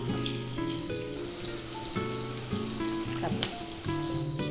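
Green chillies, onion and curry leaves sizzle steadily in a hot pan, a continuous close frying crackle with occasional stirring clatter and a sharp clink near the end.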